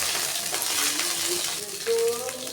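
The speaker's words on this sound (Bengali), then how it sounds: "ফোড়নে দিয়ে দিচ্ছি শুকনা লঙ্কা কাঁচা জিরা আর দিচ্ছি দুটা লঙ্কা" Dried chilies, cumin and green chilies hit hot oil, giving a bright crackling sizzle with sharp spits and pops throughout, close and loud.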